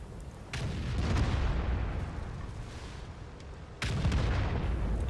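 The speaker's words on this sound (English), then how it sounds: "Shooting on the move with the 150mm gun." A 150mm tank gun in World of Tanks fires twice while the tank moves, each shot a loud, broad boom, the first near the start and the second about three seconds later, with rumbling battle noise continuing between them.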